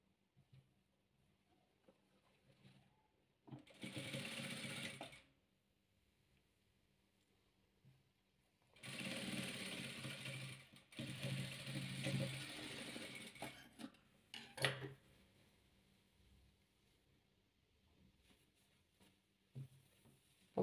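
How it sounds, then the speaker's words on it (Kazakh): A sewing machine stitches patchwork fabric pieces together in two runs of brisk, rattling stitching, the second longer and uneven, fairly quiet with near silence between. "Енді оны екеуін осылай қаратып тігіп аламыз."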